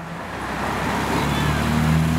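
A Volkswagen Fusca (Beetle) drives by on a street in Curitiba, Brazil, a steady roadway rumble with a low engine drone that swells toward the end, with traffic noise around it.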